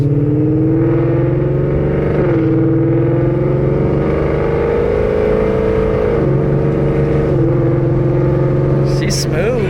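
A tuned truck named Hades, with a ten-speed transmission, accelerates hard from inside the cab, its engine droning loud and steady with tones rising and dipping at each gear change.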